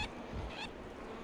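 A bird call in a Zelda video game, two short honking, goose-like chirps in quick succession, faint and close, with no talk.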